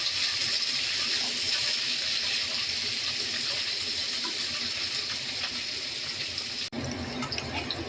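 Sliced onions and dried red chillies fry in hot oil with an unbroken close hiss and light popping, briefly dropping near the end before resuming, with no voices.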